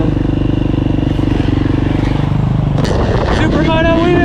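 A KTM 350EXC-F motorcycle fitted with supermoto tires idles and rumbles close by, then revs up as it heads back out onto a NYOA race course, with someone talking over it.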